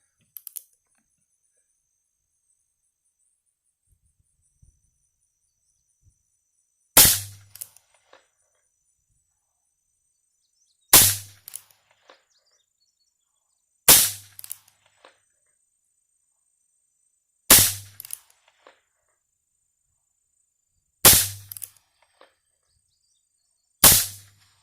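Rough Rider revolver with a 4.75 inch barrel firing six sharp, loud gunshots spaced a few seconds apart outdoors, each crack followed by a brief echo, with near silence between shots.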